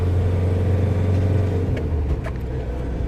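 A car engine rumbles steadily nearby, its low drone shifting as the throttle is blipped partway through, with no voices.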